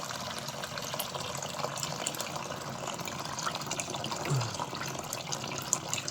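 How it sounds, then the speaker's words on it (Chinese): Hot water runs steadily from a tap into a basin, a soft, even hiss and splash at moderate distance with a brief gurgle near the end, no speech present. "然後接上一盆熱水"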